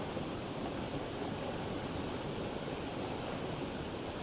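Water flowing in Fish Creek, a steady broadband rush of the stream heard close and unbroken, with no voices.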